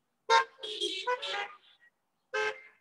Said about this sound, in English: We thank you for horns to honk.